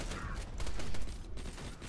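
A turret in the video game Borderlands 2 fires in a rapid, continuous burst of gunfire, loud and dense across the short stretch, with no voices over it.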